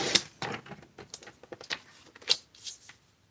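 Cardstock for a handmade card is cut and trimmed, giving soft, irregular papery scrapes and slices with small clicks, close and quiet without talk.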